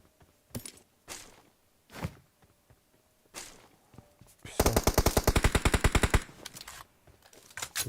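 Rapid bursts of automatic gunfire in PUBG Mobile dominate the middle, preceded by a few sharp isolated shots and thuds; loud and close, with faint voices around.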